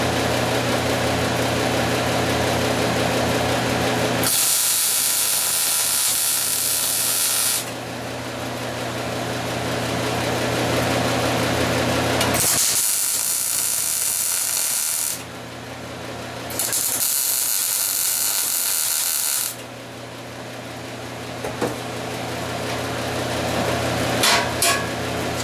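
Metal welding on a steel lock box, with loud sustained crackling buzz in several long bursts separated by brief pauses, close up with a low hum underneath.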